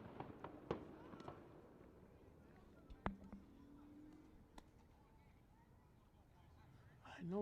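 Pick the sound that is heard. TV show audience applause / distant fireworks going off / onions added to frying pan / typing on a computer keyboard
distant fireworks going off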